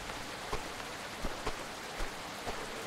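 Faint rain falls in the farming video game Farmer's Life, a soft continuous patter with a few slightly louder drops at irregular moments and no talk over it.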